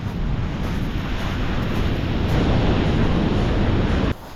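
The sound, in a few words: wind blowing on a shingle beach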